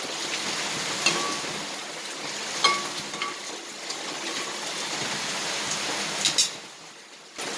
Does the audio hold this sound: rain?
yes